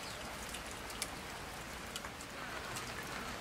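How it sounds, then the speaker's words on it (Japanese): Heavy rain pours steadily at a campsite at Hottarakashi Camp, a dense wash of hiss with scattered sharper drops tapping nearby surfaces, no voices. "雨強いんですけど"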